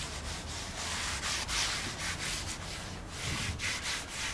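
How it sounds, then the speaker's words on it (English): A rag wipes thinners over a french-polished propeller to clear off thick polish, giving a close, continuous rubbing and scrubbing in quick repeated strokes, with no talk. "I'm just actually washing it over with some thinners."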